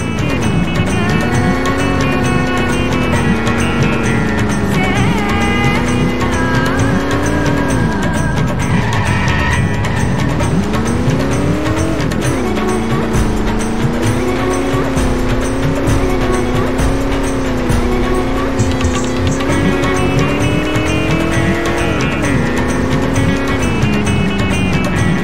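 A car in Simpsons Hit & Run roars along without pause, its engine revving up and down through gear shifts, loud and close, with tire squeals mixed in.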